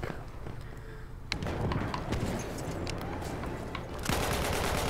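Assault rifle fire in a Battlefield 1 multiplayer match crackles in rapid automatic bursts, loud and dense, over a constant battlefield din with other shots in the mix.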